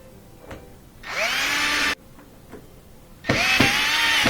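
Screws are driven into a Miele dishwasher panel by a power driver, heard as two close, loud whirring bursts of about a second each, separated by quiet gaps with faint taps.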